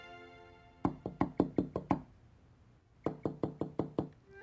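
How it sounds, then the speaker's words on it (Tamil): Knuckles rap on a window in two quick series of about six sharp, evenly spaced knocks separated by a short pause, close and loud. "கதவை தட்டாம ஜன்னலை யார் தட்டிட்டு இருக்காங்க?"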